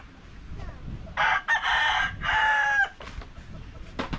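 A rooster crows loudly and nearby in two stretched calls, with shorter clucks around them, over a quiet outdoor background at a coconut farm.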